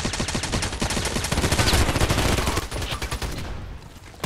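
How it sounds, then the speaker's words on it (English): Rapid gunfire from the online shooter Contract Wars crackles continuously, a dense volley of overlapping shots and bursts that fills the whole stretch at steady loudness, with a faint voice briefly underneath. "Who's shooting on the other side?"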